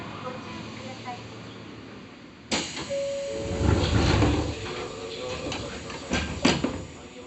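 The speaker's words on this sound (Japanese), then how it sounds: "扉が閉まります。" Doors of a Hakone Tozan Railway 2000 series train closing, a sudden loud clunk followed by sliding rumble and a few sharp knocks and thuds nearby.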